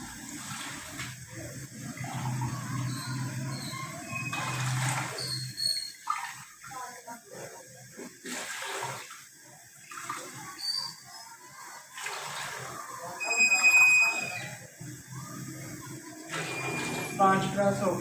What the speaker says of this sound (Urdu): تو اس میں ہم 7 گلاس پانی کے ایڈ کریں گے